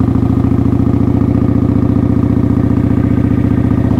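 A motorcycle engine runs steadily while riding, a loud, close, continuous throbbing rumble with no break and no talking.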